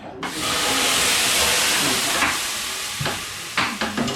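Water poured onto hot stones in a Finnish sauna hits with a sudden, loud burst of hissing steam that holds for a few seconds, then fades with a few crackles.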